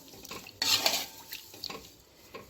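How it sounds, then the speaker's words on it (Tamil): A spoon scrapes and clinks against a pan while poori masala is stirred, with a burst of clattering stirring near the start and lighter taps after, close and without talk. "உப்பு சேர்த்துட்டு நல்லா கலந்து விட்டு இப்போ ஒரு கொதி வந்துக்கட்டும்"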